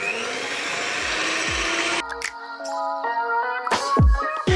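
An electric mixer whirs steadily as it beats eggs with sugar and salt for a bento cake batter, loud and continuous at first, then cutting to quieter clattering and motor hum with brief knocks.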